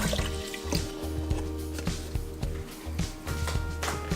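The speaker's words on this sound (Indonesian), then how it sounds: "Saya tambahkan air." Water goes into coconut milk in a cooking pan, giving quick, close splashy drips and trickles in an irregular patter, with no speech.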